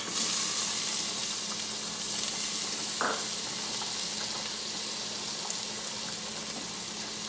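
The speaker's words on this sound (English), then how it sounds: "And I'm going to put in our shiitake mushrooms." Shiitake mushrooms frying in a pan for a vegetable ramen, giving a steady, loud broadband sizzle that runs the whole time, with one brief stir or clink partway through and no talk.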